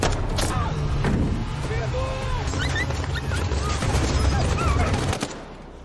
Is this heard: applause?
no